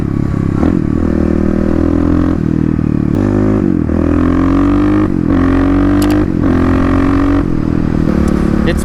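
Kawasaki KLX351 motorcycle with its airbox lid removed, the loud intake roar rising and falling as the engine revs and pulls, mixed with some mechanical clatter and no talking.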